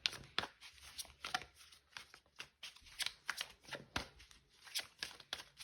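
Tarot cards are shuffled and handled close up in quick, soft riffling bursts and light slaps, repeating in an uneven rhythm at low volume.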